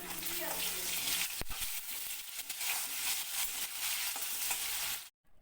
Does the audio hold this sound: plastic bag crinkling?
no